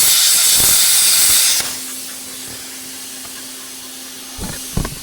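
A loud hissing blast strips a globular paint mess off a metal part, then cuts out to a quieter steady hum, and a short final burst of hissing and clatter follows.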